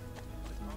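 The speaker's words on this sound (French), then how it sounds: "On va prendre son cheval. Allez, on va un petit tour en cheval." Horse hooves from the video game Assassin's Creed 2, heard as a short, soft run of galloping beats beneath a steady game soundtrack hum.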